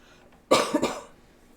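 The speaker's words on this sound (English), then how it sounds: "I have no idea why I'm coughing." A single sharp cough bursts out, followed by a quick second rasp, then quiet.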